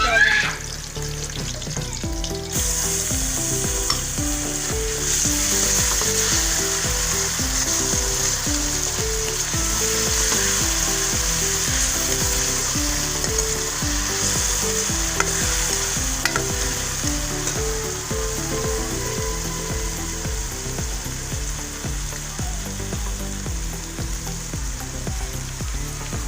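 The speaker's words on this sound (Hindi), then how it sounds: "प्याज हमारा फ्राई हो गया" Onions with garlic-ginger paste fry in a pan for aloo palak, a continuous dense sizzle and crackle with stirring clatter, loud and close, starting abruptly after a brief quieter moment.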